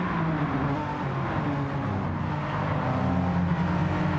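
Race cars in a 70s-series round at Bathurst, a steady, loud engine drone running through the whole stretch with harmonic whine, as several cars run close together past the microphone with no break.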